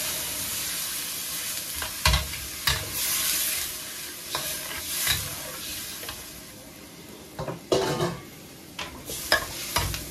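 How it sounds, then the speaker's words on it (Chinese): Water hits a hot pan of stir-fried chestnuts and pork, giving a steady loud sizzle and bubbling hiss with spatula scrapes and stirring knocks. "咱们炒差不多之后加水。"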